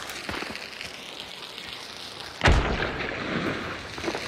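A grenade blast in Hunt: Showdown, a single loud, close boom that erupts after scattered faint pops and leaves a rumbling tail.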